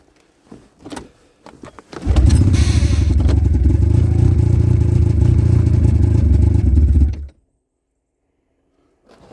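A stalled two-stroke snowmobile is cranked back to life after a few short clattering tries, then runs loud and close for about five seconds before cutting off to silence.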